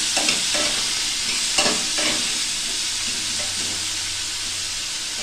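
Mixed vegetables stirred in a pan with salt, turmeric, cumin powder, coriander powder and a little sugar, giving a steady loud sizzle with scraping spatula strokes near the start and no talking.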